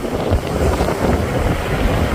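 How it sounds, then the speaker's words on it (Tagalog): A fishing boat rocks at sea in strong waves and gusting wind, a loud, continuous rumble of wind buffeting and water rushing close by with no talk. "Ang lakas ng alon."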